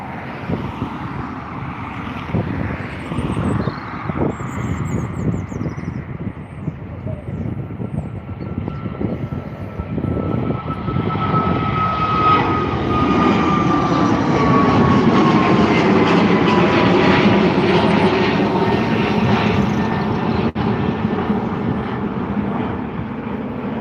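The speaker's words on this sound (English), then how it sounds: "Ryanair 737 MAX 8. There it is, taking off to Manchester." Ryanair Boeing 737 MAX 8 taking off from Dublin Airport for Manchester, its engine roar swelling and growing louder through the second half as the jet powers away.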